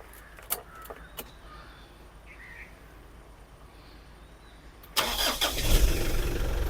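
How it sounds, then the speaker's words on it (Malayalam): A 2011 Pajero SFX or Fortuner SUV cranks and fires up after several seconds of quiet clicks, settling into a loud, steady idle close by. "ഇത് നമുക്ക് ജസ്റ്റ് സ്റ്റാർട്ടാക്കി നോക്കാം വണ്ടി"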